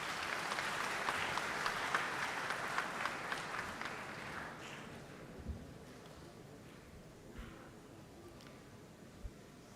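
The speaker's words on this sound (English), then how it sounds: "Please give him a big round of applause." Audience applause at an event, a moderate wash of clapping from a crowd that fades out after about four seconds, leaving quiet room noise with a few soft bumps.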